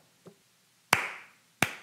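A single person gives a slow clap: two or three crisp, close handclaps spaced well apart, each ringing briefly in a quiet room.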